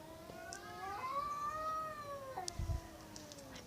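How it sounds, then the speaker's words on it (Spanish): A cat gives long, wavering meows, drawn-out and near, heard during an online game session with faint clicks in the background and no talk. "Escuchen los gatos."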